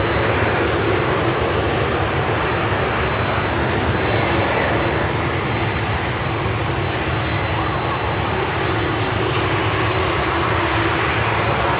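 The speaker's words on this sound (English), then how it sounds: "I'm surrounded by jet sounds." Jet airliner engines roar continuously at an airport, a loud, dense, unbroken whine and rumble from aircraft nearby, with no talking.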